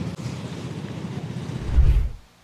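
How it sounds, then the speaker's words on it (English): Water and wind rumble steadily, swelling into a louder low engine-like wash near the end as a boat passes close, then fading abruptly. "As if we're on cue, a boat comes up."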